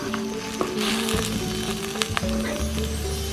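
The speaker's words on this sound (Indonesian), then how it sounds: "Langsung diaduk-aduk." Food fries with a constant sizzle in a pan on a village kitchen stove as palm sugar (gula jawa) is stirred in, with scraping stirring strokes and occasional clinks close by.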